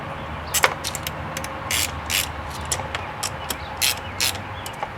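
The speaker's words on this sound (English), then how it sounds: "Tighten those two battery terminals down with a 10mm socket and ratchet." A ratchet on a 10mm socket tightens the battery terminals of a 2001 Volkswagen New Beetle, giving bursts of rapid, close clicking in short strokes with small gaps between them.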